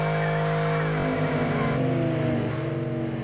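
A car does a burnout in the Street Outlaws racing game, the engine roaring loud with shifting revving tones that climb and fall, a sharp jolt near the middle, then a slight fade at the end.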